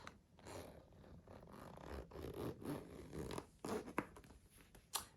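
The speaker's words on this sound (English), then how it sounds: "So let's do the zip up." A zipper on a compact cosmetic pouch is drawn closed in several short, quiet zipping strokes, heard close up with soft rustling of the pouch between pulls.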